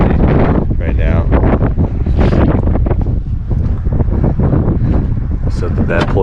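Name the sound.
wind blowing at beach campsite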